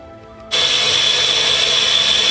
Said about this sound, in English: now we've got the Clarkson grinder running